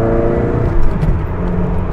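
A manual Ferrari, a 328 GTS or 550 Maranello, accelerates with a loud, close, sustained engine drone and no talking.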